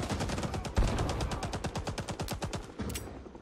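Sustained automatic machine gun fire in the Rising Storm 2: Vietnam video game, a rapid, steady stream of loud shots running for several seconds with one heavier boom near the start.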